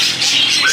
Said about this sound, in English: Actually in here now with the birds.